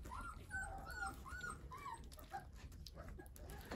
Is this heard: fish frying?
no